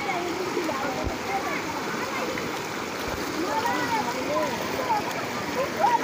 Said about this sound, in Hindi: और पानी का लहर तो देखें कितनी तेज़ है।